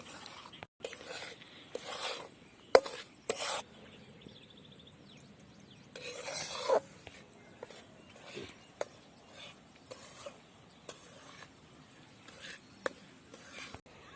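Semolina dry-roasting in a pan for sweet sheera is scraped and stirred in quiet, intermittent rasping strokes, close and soft, separated by short pauses.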